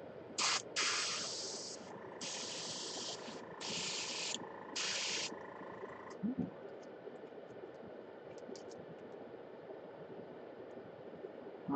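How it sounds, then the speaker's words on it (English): Airbrush spraying paint for Gaslands model cars in a hobby painting setup, giving four or five sharp hissing bursts in quick succession during the first half, then a quiet background with faint clicks. "the airbrush is rather full"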